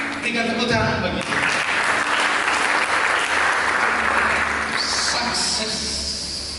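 Loud, continuous clapping from a church congregation fills the space, thick and even throughout, with a voice heard at the start.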